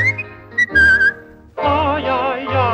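A tuneful whistled phrase sounds up close, then gives way to a fuller musical passage with a vocal-like melody.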